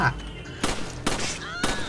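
Gunfire in the co-op video game Resident Evil 5: three loud, sharp shots spaced roughly half a second apart, each ringing out briefly over a murmur of game ambience.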